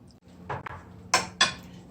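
A spoon knocks and scrapes inside a pot of cornmeal porridge with vanilla as it is stirred, giving a few sharp close clinks and scrapes spaced across a quiet moment.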